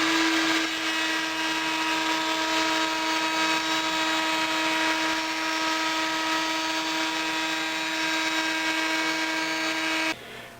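A router fitted with a dado bit set at quarter-inch depth cuts wood for a picture frame, a steady loud high-pitched whine with a constant tone that runs about ten seconds before the pitch drops as it winds down.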